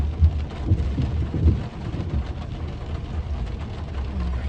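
Steady rain falls outside a car on a Saturday, a continuous wash of patter with a few low thumps and rumbles, and no voices.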